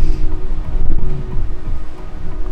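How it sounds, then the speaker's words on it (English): Strong west wind gusts buffet the microphone in uneven, rumbling bursts, loud and close throughout, with no voices, on a snowy trail in Sweden. "now it's kind of windy here and it's definitely coming from the west"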